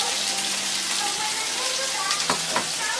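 Mustard seeds, cumin and urad dal, about half a tablespoon each, sizzle and crackle steadily in a hot pan with a few sharper pops near the end, loud and close with no talk.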